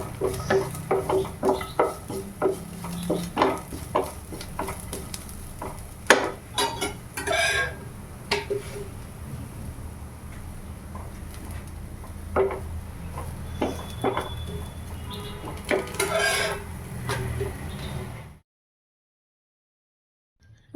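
Onion and garlic sauté in a pan for a green peas curry, a steady hiss under repeated spatula scrapes and clicks against the metal, running continuously until it cuts off into silence.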